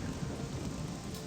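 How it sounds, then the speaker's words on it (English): Steady rain with a low thunder rumble in the video game Morrowind, a dense, continuous wash at even loudness across the short stretch, with no voices. "I don't think the rain bothers him too much."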